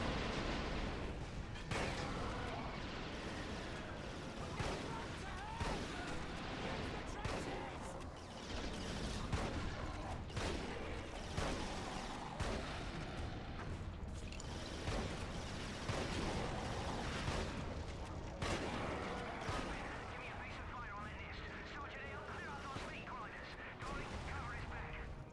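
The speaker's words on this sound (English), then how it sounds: "The shotgun in this game is so good." Shotgun fire in the video game Resistance: Fall of Man, repeated sharp blasts amid dense battle noise and explosions, with a voice talking over the action.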